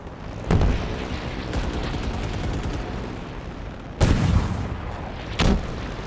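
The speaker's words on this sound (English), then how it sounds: "I'd say the explosions and stuff." Explosions and gunfire in the video game Halo Infinite: a loud blast, a rapid burst of automatic fire, then two more heavy booms over a constant rumble of battle noise.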